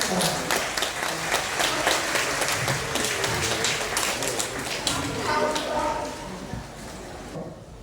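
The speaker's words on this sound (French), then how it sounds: "un tonnerre d'applaudissements pour Maurice." A crowd at an aquarium breaks into dense, sustained applause, many hands clapping at once, holding steady and then thinning out toward the end.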